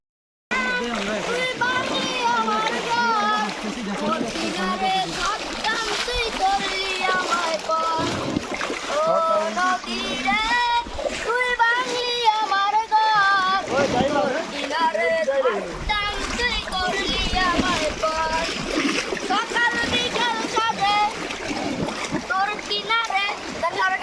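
A boat pushes through deep floodwater in Lakshmipur during the August 2024 floods, with constant splashing and sloshing close by, heard under loud continuous talk from several people, including a child.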